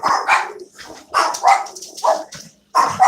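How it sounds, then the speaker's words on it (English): Several dogs barking indoors nearby, a run of loud, overlapping barks and yips in quick bursts with brief pauses between them. "Dogs are barking."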